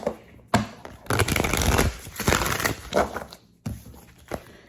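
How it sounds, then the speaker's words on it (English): Tarot cards are shuffled by hand, with bursts of rapid riffling and papery slapping separated by brief pauses, close and fairly loud with no speech. "Shuffle the cards"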